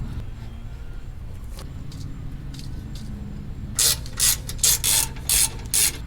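Ratchet tightening two 10mm bolts on a RAM 1500 pickup's rear brake caliper, a quiet background hum first, then five sharp bursts of rapid clicking close by.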